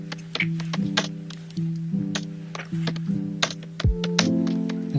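Computer keyboard keys tapped in short bursts of crisp, close clicks over a steady electronic hum, with brief pauses between the runs of keystrokes.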